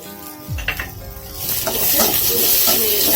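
Bell pepper and a single tomato sautéing in a pan for chutney, a loud continuous sizzle that swells after a brief clatter, with soft stirring scrapes throughout.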